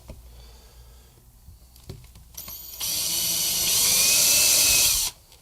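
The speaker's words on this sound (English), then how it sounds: "I'm just going to go around, drill some pilot holes" A few light knocks and clicks, then a small drill whirs loudly at high speed for about two seconds drilling pilot holes in a Squier guitar, before stopping abruptly.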